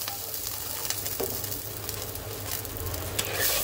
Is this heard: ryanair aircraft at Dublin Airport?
no